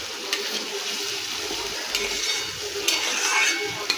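Blended onion and capsicum fry in a pan, giving a close, steady sizzle with occasional stirring scrapes and light clatter, and no talk.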